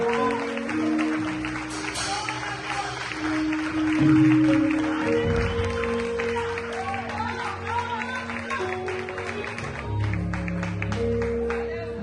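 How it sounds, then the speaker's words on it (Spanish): A church congregation applauding: sustained clapping from many hands beneath a musical backdrop with sustained tones, continuing steadily throughout alongside a speaking voice. "Aplaudan al Señor fuerte, por favor"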